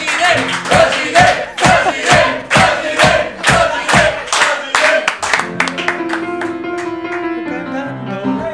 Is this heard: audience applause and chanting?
yes